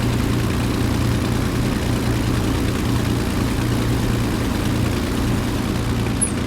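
A Messerschmitt BF109's propeller engine idles at about 1,000 RPM in Microsoft Flight Simulator, a steady, loud, low droning rumble with no pauses.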